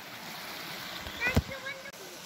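A stream flows beneath an old stone bridge by a farm, a steady close wash of running water with a brief louder splash near the middle.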